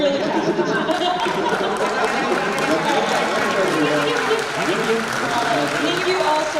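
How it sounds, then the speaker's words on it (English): Convention audience at a comic con panel clapping, a continuous wash of applause mixed with crowd chatter and cheers from a packed room, sustained throughout. "Give a huge round of applause."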